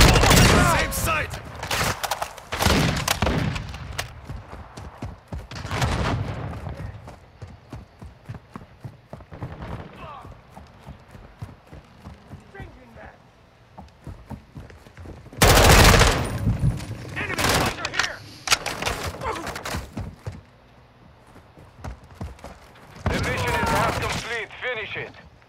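Bursts of automatic gunfire and single shots in Call of Duty: Modern Warfare II, loud and close in several sharp volleys spread across the stretch, with quieter rattling and game sounds between and brief talk underneath.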